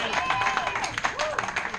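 Audience applause at a live jazz show by an organ quartet, a short burst of scattered clapping in a small club, with voices mixed in.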